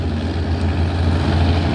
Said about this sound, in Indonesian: Wis ramai banget ini truk-truk berat menanjak Hino.